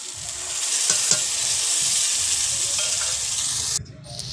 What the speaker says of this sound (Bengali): এবার সব মশলা দিয়ে আমি কষিয়ে নেব।